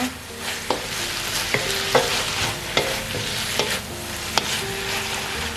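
Spicy pork being stir-fried with dark soy sauce and holy basil in a pan, a steady close sizzle broken by regular scraping stirs and taps of the utensil, with no talking.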